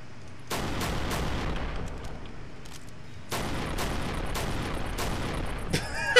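Gunfire in the zombie shooter game Left 4 Dead 2: loud, rapid, sharp shots in two sustained volleys that fill the clip, with a short pause between them.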